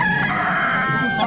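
A rooster at a poultry market crows loudly and close by in one sustained, wavering call lasting the whole moment, with no talk over it.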